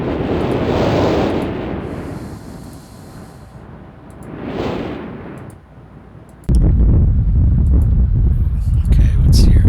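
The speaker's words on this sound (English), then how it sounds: "We found a smoldering crevice sound." A smoldering crevice in the Myst game gives off rumbling, crackling bursts that swell twice and fade, then shift into a steady, dense low roar that holds to the end.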